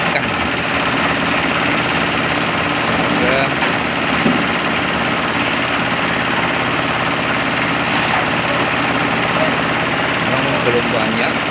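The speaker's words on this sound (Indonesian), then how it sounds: "molen yang kedua, mesin yang kedua sebelum dioperasikan" A concrete mixer's engine runs steadily at a mosque extension site during a slab pour in Klaten, a continuous loud mechanical drone with faint voices in the background throughout.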